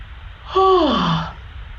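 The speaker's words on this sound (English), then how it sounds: "Even yawning's a relief." A person yawns once, a breathy rising-then-falling drawn-out vocal sigh lasting under a second, close and clear against a quiet room.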